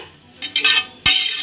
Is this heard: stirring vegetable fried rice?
yes